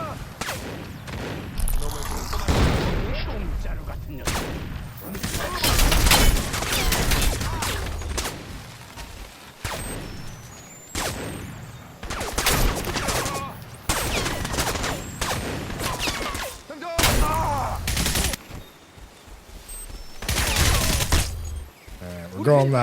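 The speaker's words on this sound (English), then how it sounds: "I'm going to throw a grenade, though." In the shooter Crysis Remastered, bursts of gunfire and a grenade blast ring out in loud repeated volleys with booming impacts, separated by short lulls, while someone talks intermittently.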